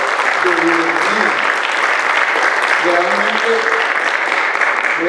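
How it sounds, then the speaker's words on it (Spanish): A church congregation gives a loud, strong round of welcoming applause. Dense clapping fills the space throughout, with a voice speaking over it in the background. "Démosle un buen fuerte aplauso a ellos de bienvenida"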